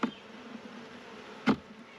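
Honey bees buzz in a steady, close drone at an open hive during inspection, with two brief knocks at the start and midway and no voices.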